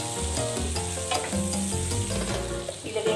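Salted butter sizzling in a pan while chopsuey is being cooked, a close bubbling crackle with stirring knocks, no voices.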